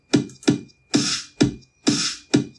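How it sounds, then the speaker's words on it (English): A basic clap sample programmed in FL Studio for an EDM drop: sharp, dry electronic claps alternating with short punchy kick hits in a steady beat, about six loud close hits in total, with no talking. "Just a basic clap."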